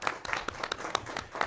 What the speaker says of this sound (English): I would like to have a round of applause for all of these teachers